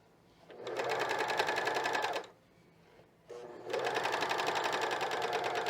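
A cover stitch machine sews fold over elastic onto stretchy fabric in two loud, steady bursts of rapid needle whirring, separated by a short pause with a faint mechanical click.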